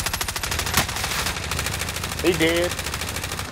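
Rapid automatic gunfire from Call of Duty, set in a shipyard, rattles in a steady fast stream throughout, with a short burst of game sound partway through and a brief spoken remark over the shooting.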